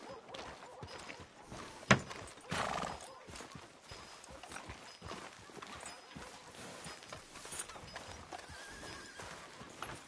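Horse hooves clip-clop at a walking pace in a video game, with a horse whinnying and a sharp thunk early on, under quiet background sounds.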